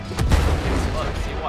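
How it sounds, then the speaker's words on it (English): Cannons fire in the video game It Takes Two, a loud booming blast near the start followed by rumbling gunfire, with a voice talking faintly beneath. "They've got cannons too!"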